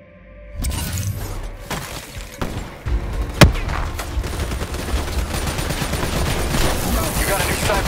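Gunfire and shattering impacts in Call of Duty Black Ops 3 in old subway tunnels, with sustained automatic fire, sharp loud cracks and thuds over several seconds, and a voice speaking over the combat.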